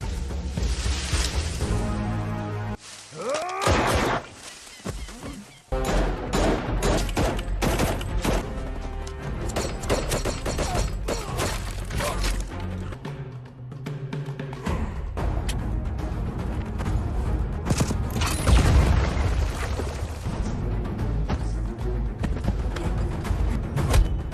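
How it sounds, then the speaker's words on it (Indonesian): Sustained gunfight from the war film Border 2, with dense bursts of gunfire, crashes and heavy thuds filling the whole stretch loudly, set among a dramatic soundtrack with no pause in the action. "Di tengah aksi baku tembak yang masih berlangsung,"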